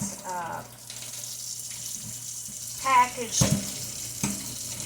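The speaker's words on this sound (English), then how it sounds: "So we have drained and fully rinsed. And I use warm water when I'm doing this." Warm tap water runs into a sink while canned tuna is rinsed, a steady hiss under a voice speaking, with clattering handling sounds near the end.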